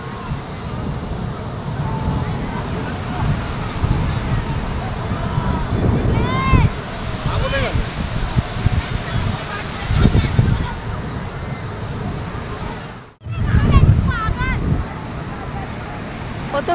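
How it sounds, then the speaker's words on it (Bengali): Wind rushes across the sea beach at Puri, buffeting the microphone in a loud, constant roar, with surf and distant crowd babble beneath and a brief break in the gusting near the end. "কি হাওয়া, মানে যতই পুরীতে রোদ থাকুক না কেন হাওয়া দেবেই"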